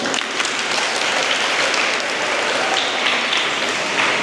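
A gathering at a Krishna Janmashtami celebration claps in a sustained, dense burst of many hands, close and fairly loud, continuing evenly without talk.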